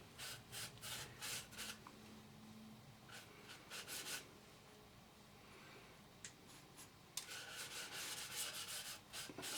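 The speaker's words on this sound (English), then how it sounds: "apply some rubbing compound with a cloth" A cloth rubs compound onto a perspex sheet by hand in quiet, close, rhythmic swipes, bursts of back-and-forth friction separated by short pauses, no talking.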